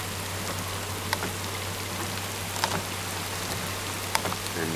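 Heavy rain falling during a flood, a steady even hiss with a low constant hum underneath and a few scattered sharp drips, no voices.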